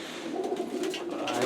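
Pigeons coo in a loft, including khaki-coloured birds, a brief low rolling murmur of calls up close with light rustling.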